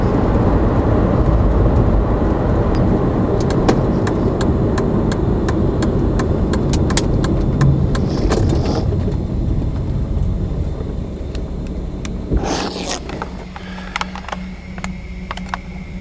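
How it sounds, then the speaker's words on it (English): A 1989 Mercedes 300E driving with a smooth, quiet engine: a steady low road and engine rumble inside the car, with a few faint clicks and rattles toward the end. "This car is so smooth and quiet that sometimes I have to look at the tachometer to make sure the engine is still running."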